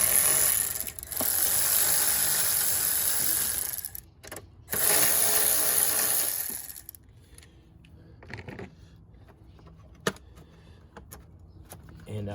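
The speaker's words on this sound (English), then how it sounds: "And I'm using a 10mm socket on a ratchet." A ratchet fitted with a 10mm socket works loose fasteners on car battery parts, giving two long bursts of dense, loud clicking followed by quieter scattered clinks and handling noises.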